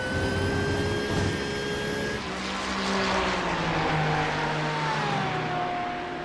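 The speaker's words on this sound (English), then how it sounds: "iRacing doing an excellent job of recreating this particular car all the way down to the gearbox and everything." A GT3 race car races at Silverstone in the iRacing simulator, its engine a loud sustained drone that drops with a gearshift and then climbs steadily through the revs, with whining gearbox tones, close and with no talk.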